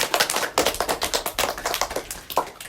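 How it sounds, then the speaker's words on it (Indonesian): Students in a school PE class on the hanging-style long jump clap their hands together, giving a quick, uneven patter of sharp, overlapping claps that runs the whole short stretch. "Silakan beri tepuk tangan dulu."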